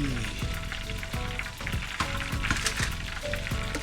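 Cajun-style catfish deep frying in hot oil, a loud, dense crackling sizzle that never lets up, with rhythmic bursts of popping and bubbling close by and no talking.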